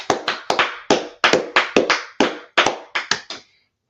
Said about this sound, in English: let's clap it up for class